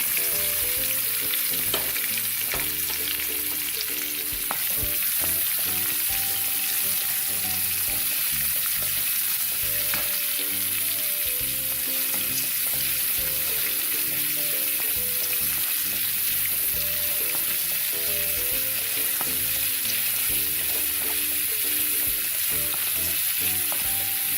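Sliced onions fry steadily in a pan for oggarane rice, a continuous close sizzle with occasional stirring scrapes running throughout, no voices.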